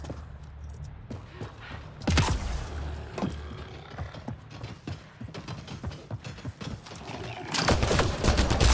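Sci-fi gunfire in the video game Mass Effect Andromeda, set in hostile territory: a loud burst of shots near two seconds, then a steady run of sharp cracks and impacts over a low rumble, swelling again at the end.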